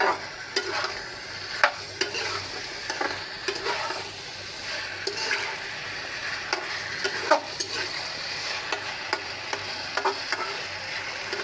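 Taro pieces stir-fried in a pan for a fish curry, a steady sizzle broken by frequent scraping and clinking spatula strokes at an uneven rhythm.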